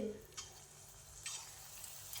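Faint, steady sizzle of chana dal fritter batter frying in hot oil, broken by a couple of brief crackling bursts.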